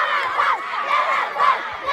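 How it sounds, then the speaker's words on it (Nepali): School students hooting and cheering at a football penalty shootout, a loud sustained crowd roar with rising whoops and shouts that swell in waves. "शान्तिका विद्यार्थीहरू अत्यन्तै साह्रो हुटिङ लगाइरहेको"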